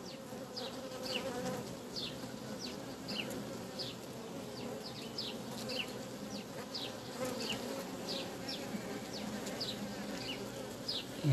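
A virgin queen honeybee gnaws and stings at a queen cell inside a hive, with soft, steady insect buzzing and faint scratchy crackles running throughout, quiet and close.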